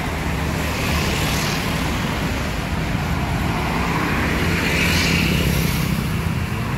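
Dense road traffic entering the city of Palembang, a continuous broad roar of passing vehicles and buses with two swelling pass-bys, steady and moderately loud, with no voices.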